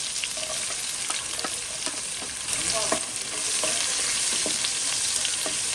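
Garlic and onion frying in a pan with fat, a continuous close hiss and crackle broken by light scraping stirs, steady and fairly loud with no voices.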